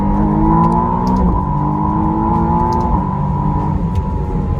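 A 2025 McLaren Artura Spider's engine drones loudly from inside the car, its pitch climbing and then dropping sharply at each quick gear shift, repeated twice, with no talking.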